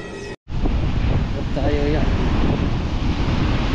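Broadband wind and surf wash near a shoreline fills the recording almost continuously after a brief cut near the start, loud and steady, with people talking over it.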